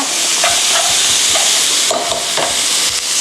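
Pork ribs with lemongrass stir-fried in a hot pan: loud steady sizzling with rhythmic spatula scrapes and knocks recurring about every half second, close and without talk.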